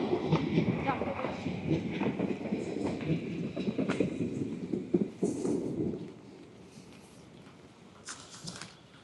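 A tram in Potsdam, Germany rumbles past with rhythmic clicking wheels and clatter, loud at first then fading away, with voices talking nearby.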